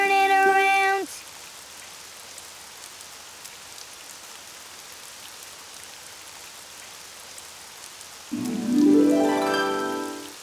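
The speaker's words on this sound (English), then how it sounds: "It's raining outside." Steady soft rain falls outside in an animated children's show, a continuous gentle patter bracketed by brief musical tones at the start and end, with no talk over it.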